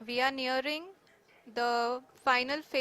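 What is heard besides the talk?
No everyday noise stands out behind the speech.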